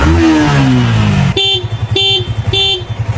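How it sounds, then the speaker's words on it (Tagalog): A repaired motorcycle engine catches and settles into a close, loud idle with regular chugging pulses, following a brief stretch of other noise. "Ayusin mo nga tong motor, Kalbo."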